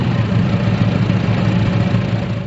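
A 1915 Duesenberg Indianapolis racer engine runs at a steady idle, a loud, continuous low rumble with a rough, even throb throughout and no voices over it.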